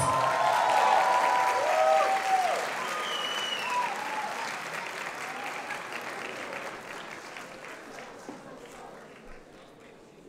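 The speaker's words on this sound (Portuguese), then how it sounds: "Uma salva de palmas para a Oki, que está aqui no palco" Audience applause and some cheering at the group cosplay contest awards at IberAnime Porto 2019, a dense, loud clapping crowd that slowly thins and fades, with faint voices mixed in.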